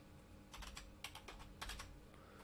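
Keys clatter on a computer keyboard in short quiet bursts, three clusters of quick taps with small pauses between them and no voice.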